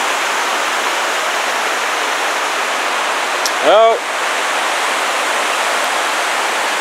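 Two mountain streams meeting in the Ruahine Range, a constant broadband rush of water that fills the whole clip, with a brief spoken interjection partway through.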